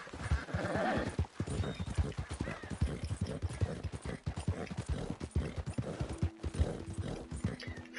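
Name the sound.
horse galloping in Red Dead Redemption 2, video game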